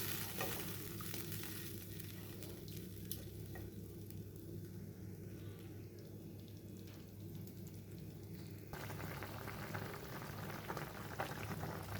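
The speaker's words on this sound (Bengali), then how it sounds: "ঝোলটা খুব ভালো মতো ফুটে গেছে" Kajli fish curry with potato and eggplant boils steadily in a pot, a continuous bubbling and simmering hiss that stays even throughout with no voices.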